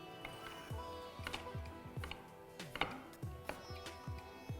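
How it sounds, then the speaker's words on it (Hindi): A knife chops a fresh tomato on a cutting board in a quick run of close, soft thuds, about two per second, fairly quiet with a faint background hum and no talking. "मैं सिर्फ 1 टमाटर चॉप करूँगा चंकीनेस के लिए"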